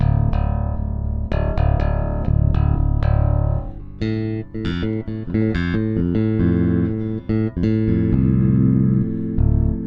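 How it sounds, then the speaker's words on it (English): Bass guitar recorded through a Focusrite audio interface into a laptop, with plucked notes sounding close and steady across the whole stretch, forming a rhythmic line with no voice over it. "So you can hear the bass"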